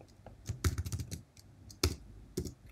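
Typing on a computer keyboard, close and fairly quiet: a quick burst of clicking keystrokes followed by a few isolated, sharper key taps, with no talking.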